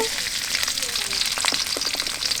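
Chopped chilies sizzle and crackle in hot oil in a wok, a steady close frying hiss with scattered pops throughout.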